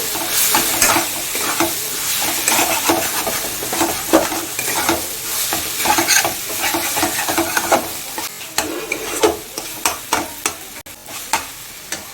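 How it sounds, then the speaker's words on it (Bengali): A spatula scrapes and stirs through kalmi greens frying in a pan, with a steady sizzle and repeated rhythmic strokes, close and fairly loud. "5 মিনিট পর ঢাকাটা খুলে শাক ভাজাটা নেড়ে নেব।"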